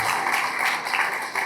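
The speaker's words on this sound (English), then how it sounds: "please, let's give him a round of applause for that" A round of applause fills the room at the Capital Link Invest in Greece Forum closing dinner and awards ceremony, a dense, loud burst of many hands clapping throughout.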